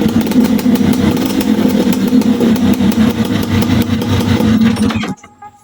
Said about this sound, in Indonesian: jadi begini guys suaranya knalpot dan sudah dibersihkan